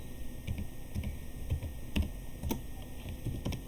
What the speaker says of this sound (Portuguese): Agora digitando notas com uma casa decimal.